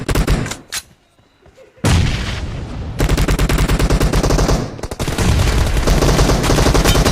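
Rapid automatic gunfire from the mobile shooter game Battleground Mobile, loud and close, bursting hard after a brief lull and then continuing in dense, sustained rattling volleys to the end.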